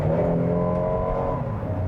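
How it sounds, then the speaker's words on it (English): Subdued hum of a 2020 Kia Telluride's 3.8-liter V6 from inside the cabin, a smooth steady engine drone with light road noise underneath, no talking. "The engine noise is subdued, the road noise is subdued"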